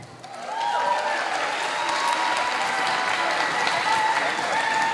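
Audience applause at a school annual day show, dense sustained clapping from a large crowd that swells in and holds steady throughout, with faint voices mixed in.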